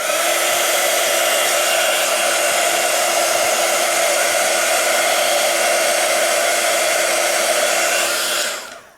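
A hair dryer, or crafting heat dryer, blowing over freshly stamped Cosmic Shimmer pixie powder, making a steady loud whir with a constant hum that runs unbroken for about eight seconds before switching off.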